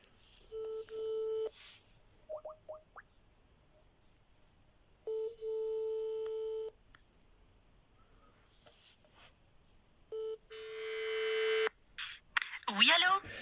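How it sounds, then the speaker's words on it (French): An outgoing phone call to a French child-protection office plays repeated ringback tones, steady beeping bursts separated by quiet gaps, followed by a brief click as the line picks up. "Aujourd'hui, c'est le 12e appel à Vera Briand."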